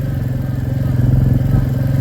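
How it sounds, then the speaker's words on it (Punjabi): A motorcycle engine labors climbing uphill on the Delhi–Katra Expressway in Punjab, a steady low throbbing drone that swells slightly as it strains, loud and close with no voices. "ਜ਼ੋਰ ਲੱਗ ਗਿਆ ਮੋਟਰਸਾਈਕਲ ਦਾ ਬਾਈ"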